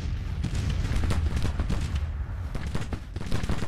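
Artillery fire in Grand Tactician: The Civil War, a dense run of booms and cannon shots layered into a continuous low rumble of battle, loud and steady with no talking.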